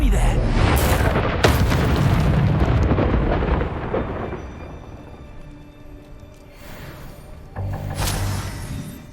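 Explosions from the Confringo spell in Hogwarts Legacy: loud booms and crashing bursts early on, settling into a low rumble, then another sharp blast near the end, with voices talking throughout.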